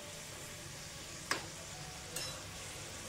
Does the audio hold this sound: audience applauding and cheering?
no